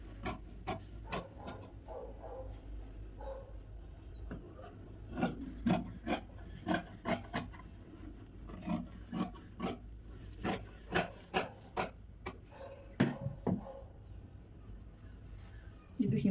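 Scissors cut straight through silk saree blouse fabric in a series of crisp rasping snips, some quick and clustered, some spaced apart, close up and steady over a quiet room.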